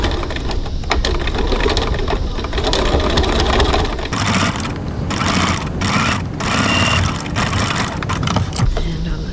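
Sewing machine stitching a curved fabric seam at a 3.4 stitch length, a continuous close mechanical whir with a rhythmic rattle that changes pace partway through, with a voice speaking over it.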